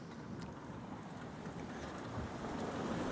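Swollen creek rushing past, a continuous broad roar of water with wind noise, steady and fairly faint, growing slightly louder toward the end, no voices.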